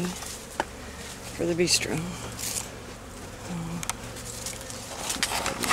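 Honey bees buzz in a steady, dense drone around the hives during a honey harvest, close and continuous, while someone speaks briefly over the swarm.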